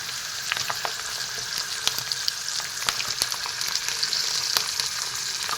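Chicken meat frying with onions in a pan sizzles steadily up close, broken by sharp spatters and stirring clicks.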